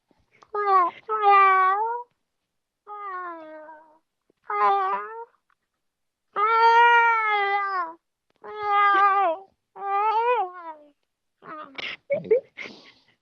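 A man imitates a cat with his voice, giving a series of drawn-out, wavering meows, about eight separate calls with short pauses between them, close and clear against silence.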